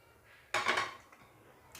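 Roasted curry leaves tipped from a pan into a metal vessel, a sudden clattering scrape and rustle of dry leaves against metal lasting about half a second, followed by a light tap, close and clear.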